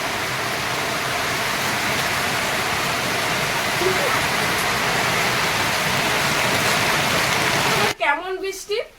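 Heavy monsoon rain pours down in a dense, loud, unbroken roar that fills the whole scene, close by, until a voice starts speaking over it at the very end.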